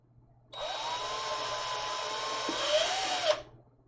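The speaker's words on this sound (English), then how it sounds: "I got to drill some holes." Power drill boring tiny holes during an antweight combat robot build, a steady whining buzz lasting about three seconds that starts abruptly and rises slightly before cutting off, close and alone.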